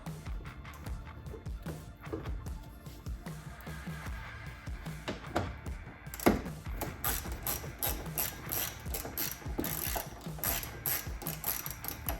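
Screws being removed from the mud flaps of a Toyota 4Runner with a power tool, a series of rapid ratcheting, whirring bursts close to the mic with short pauses between them.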